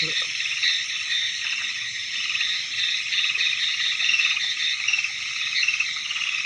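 A dense, continuous chorus of frogs croaking, steady and unbroken throughout, with an insect-like trill woven in and no talking.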